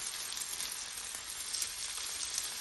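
Marinated pomfret fish roasts on a slow flame in oil and butter, producing a faint, even sizzle that crackles softly and steadily, heard alone without speech.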